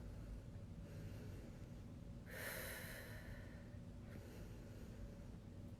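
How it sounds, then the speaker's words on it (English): A single audible breath, a sharp nasal inhale or exhale, rises briefly from quiet background during a foam rolling stretch of the TFL and IT band, with a fainter second breath following. "start breathing"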